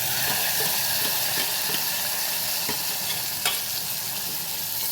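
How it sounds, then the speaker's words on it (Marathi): Cooked dal methi being stirred into sizzling fried garlic and chili in a hot pan, a steady loud frying hiss with scraping stir strokes throughout, no talking. "आता हे लसूण मिरची परतून झाल्यानंतर आपण त्याच्यात ही डाळ मेथी जी शिजवलेली आहे ते घालणार आहोत"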